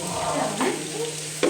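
Onions sizzle steadily in a hot pan while being stirred, giving a continuous close frying hiss with scraping spoon movements and a sharper clatter at the end.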